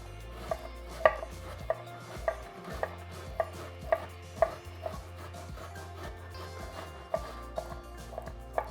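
A knife finely slices broccoli on a cutting board in a kitchen, producing a run of crisp, irregularly spaced chops over a low background hum, with no voices.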